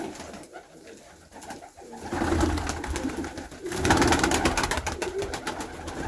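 Pigeons coo softly in a loft, low throaty calls rising in bursts against a faint background rustle, growing fuller and closer toward the end with no talking.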